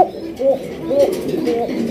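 A Giribaz fancy pigeon coos close by in soft repeated rolling calls, about three in two seconds, with faint background noise.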